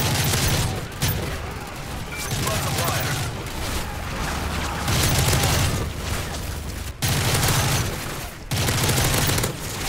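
Heavy automatic gunfire in Call of Duty: Modern Warfare 3, loud sustained bursts of rapid shots broken by brief pauses, with a low engine-like drone underneath and players talking over the action.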